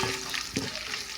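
Chopped onions sizzle in hot oil with cinnamon, cloves, cardamom and bay leaf for a capsicum biryani, a steady close frying hiss with a brief stirring scrape.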